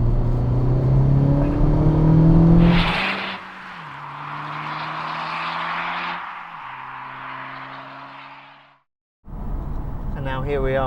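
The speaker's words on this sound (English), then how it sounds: "here we are, the FK8 on the Autobahn, although I'm driving quite slowly" A Honda Civic Type R FK8 cruises slowly on the Autobahn, its steady engine hum and broadband road and wind roar carrying under talk, with a brief gear-change dip before a short silence and more talk.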